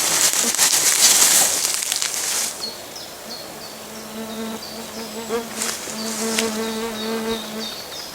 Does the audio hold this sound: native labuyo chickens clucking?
no